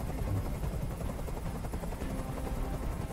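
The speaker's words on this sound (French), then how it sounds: "Fais dégager cet hélicoptère" Helicopter in the video game Detroit: Become Human, a steady, dense rotor drone holding at an even level throughout.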